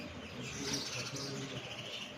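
Swallows nesting on the roof of an old building in Eminabad, Gujranwala, keep up a dense, continuous twittering chatter with rapid overlapping chirps, fairly close and steady throughout.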